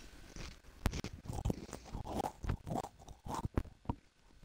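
Pringles potato chips are crunched and chewed close to the microphone, a quick irregular run of sharp, brittle crunches with small pauses between bites. No one speaks.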